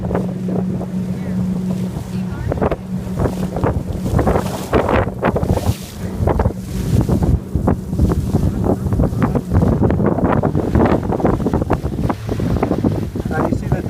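A tour boat speeds across a lake in Winter Park, Florida, its engine droning steadily beneath loud, gusting wind that buffets and rumbles throughout, with rushing water spray and waves slapping the hull.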